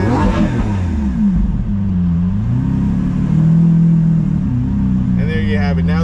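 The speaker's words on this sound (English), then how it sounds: "I'm going to give you first a little rev" A Lamborghini Aventador V12 idles close by with a deep, loud rumble, then is revved, and the engine note swells and sags without a break.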